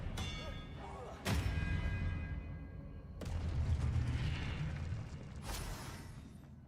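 An Expelliarmus spell is cast in Hogwarts Legacy, three sharp whooshing blasts with crackling magical bursts and rumbling tails, spaced a couple of seconds apart at moderate loudness.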